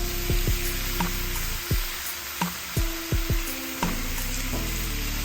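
Bacon and sausage sizzle on a Blackstone griddle, a steady loud frying hiss throughout, broken by scraping and clattering of a spatula and tonal squeaks from the utensils.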